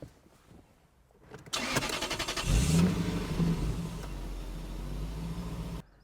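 After a quiet moment, the 4.3-litre V8 of a Lexus LS430 cranks and catches, roaring up briefly before settling into a deep, steady idle, then cutting off.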